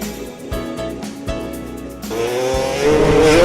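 Engine of a stunt motorcycle revving hard, its pitch climbing steadily toward the end of a short burst, loud and close with no voices.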